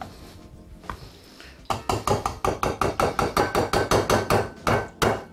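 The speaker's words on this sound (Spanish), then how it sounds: "Es un machacador de pulpa." A pulp masher pounds kale purée in a pot, first a few soft scrapes, then a steady series of about fifteen loud, evenly spaced thumping strikes close by.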